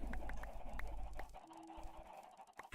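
Minecraft chickens cluck softly in scattered short notes over a low in-game ambient drone, faint and irregular, with no talking.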